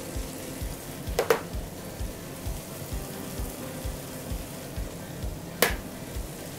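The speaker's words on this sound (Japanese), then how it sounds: "ほぐしながら炒めていきます" Shamo Rock minced chicken stir-frying in a pan, a soft, steady crackling sizzle with a couple of sharp utensil clinks against the pan, moderately close and without talking.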